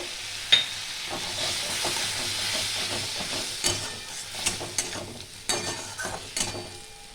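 Poppy seed paste for a Bengali drumstick and potato posto fries in a pan with a steady close sizzle, broken by repeated scraping knocks of a spatula as it is stirred.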